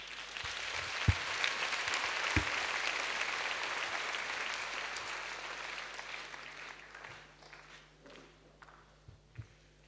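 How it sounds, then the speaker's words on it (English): An audience claps after a personal testimony at a talk, a dense steady patter that holds for several seconds and then thins out toward the end, with a few sharp knocks near the start. "He deserves a better clap than that."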